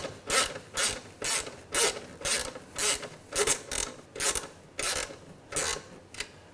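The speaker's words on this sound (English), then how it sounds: "I'll just use my favorite tool of the week to go ahead and tighten these down." A ratchet tool snugs down lock nuts on battery hold-down plates in a workshop, giving about a dozen steady, evenly spaced bursts of close, crisp clicking with no talk.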